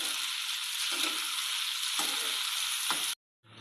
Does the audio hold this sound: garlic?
yes